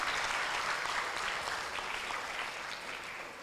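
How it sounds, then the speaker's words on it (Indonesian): Audience clapping for a young man named Andika at an Islamic motivational talk for santri, dense and steady for a few seconds before tapering slightly. "Tepuk tangan untuk Mas Andika."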